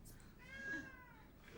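A single faint cat meow rises and falls once in a quiet room, soft and brief, with no talk over it.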